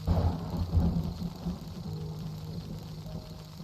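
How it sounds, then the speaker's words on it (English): A low rumble of thunder rolls in and fades over steady rain inside the video game 7 Days to Die, loudest at the start and then settling into a dull ongoing patter. "Why was that a thunderclap?"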